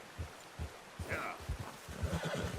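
A horse in the Red Dead Redemption 2 video game gives a brief whinny over its steady thudding hoof clops, faint and mid-distance.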